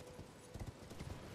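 Faint clip-clop of a horse's hooves in the video game Elden Ring, a quick rhythmic trot of a few soft thuds close together over a low, steady background.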